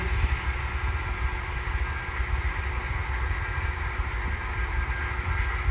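A model train runs on a home layout's track, giving a steady, continuous rolling rumble with a faint hum. The sound stays close and even throughout, with no voices.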